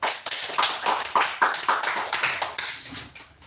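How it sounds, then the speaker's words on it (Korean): A congregation at a Korean Sunday church service claps together in welcome and blessing, a dense, lively burst of applause that carries on for several seconds and fades toward the end. "우리 서로를 위해서 환영과 축복의 박수 한번 하실까요?"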